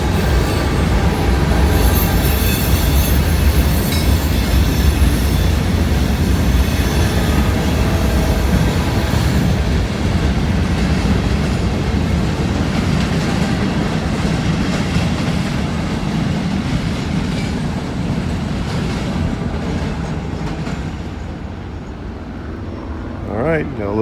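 A local freight train rolls past in Georgia, rumbling loudly with clattering wheels and faint squeals that ease off near the end, while people talk over the noise.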